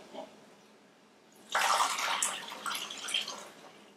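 Hot bone broth, made in an Instant Pot, is scooped and poured with a measuring cup, making a close, sloshing liquid pour that starts abruptly after a quiet moment and runs steadily.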